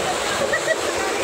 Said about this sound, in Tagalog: Grabe. Ang lakas ng agos.